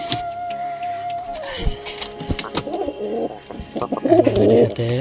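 Pigeons coo softly in a nearby loft: low, repeated throaty calls over a steady background hum, with a few brief handling knocks and rustles, growing busier toward the end.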